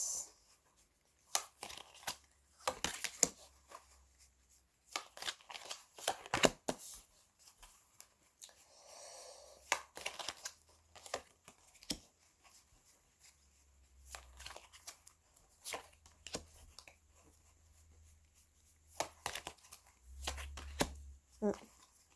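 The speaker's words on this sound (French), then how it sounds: "On va faire une coupe, mais on va pas la regarder." A deck of cards is shuffled and cut at a table, with repeated bursts of riffling and soft card slaps spread through the clip between pauses; a voice speaks intermittently alongside the card handling.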